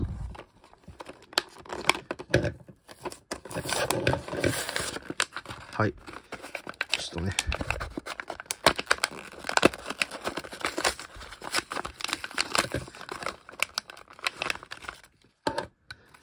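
Crinkly plastic packaging of a small robot dinosaur figure from a 100-yen shop is torn open and handled, giving steady close rustling and crackling with brief pauses, under occasional speech.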